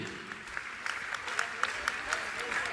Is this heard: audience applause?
yes